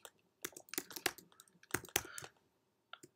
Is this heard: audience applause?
no